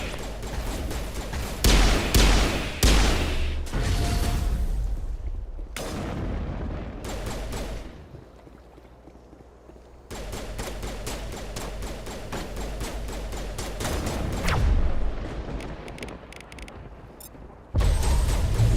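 Rapid bursts of crossfire gunfire in the Mass Effect Legendary Edition video game, with dense volleys and booming impacts coming in repeated waves over about eighteen seconds, loud throughout with a brief quieter lull midway.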